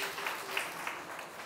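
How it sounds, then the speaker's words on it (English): Audience applause at an interactive seminar at Gargi College, Delhi University: a soft, even wash of many hands clapping, fairly distant and steady for the whole stretch. "let us give a big round of applause to her"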